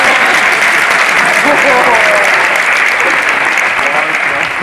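Loud audience applause at a live stand-up comedy show in Brasov, continuous dense clapping with crowd voices and talk mixed in throughout.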